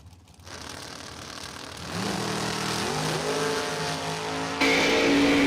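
A dragster launches and races down the strip at a dragway event, its engine roaring steadily and rising in pitch as it pulls away. A second surge of engine noise joins near the end, with no talk over it.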